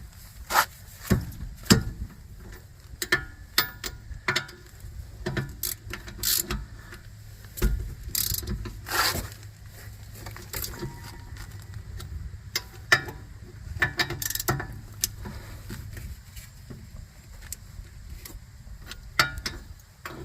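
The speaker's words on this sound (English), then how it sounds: "Use the old torque wrench, torque it to" A torque wrench clicks and ratchets while brake bolts are tightened on a 2015 Honda CR-V AWD during a brake and rotor job, giving scattered sharp metallic ticks and clacks against a quiet garage background.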